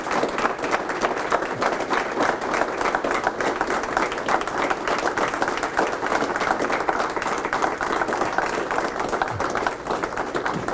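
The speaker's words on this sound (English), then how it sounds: "Let's give them a round of applause." Family members and an audience clap loudly and continuously, a dense, driving patter of many hands that stays strong and unbroken for over ten seconds.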